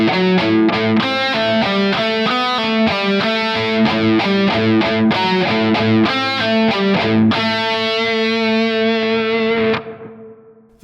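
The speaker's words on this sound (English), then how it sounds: "the main riff is once again in A Dorian" Heavily distorted electric guitar chugs through the main riff of a song, a fast, tight run of repeated palm-muted notes, loud and alone, ending on a ringing held chord that cuts off.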